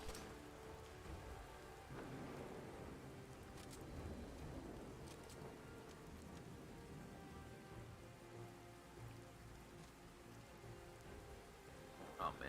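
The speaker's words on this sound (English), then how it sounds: "Oh man, it's raining now" Steady rain patters in the Fallout game world with low rolls of thunder rumbling underneath, continuous and fairly quiet throughout, with a brief louder burst near the end.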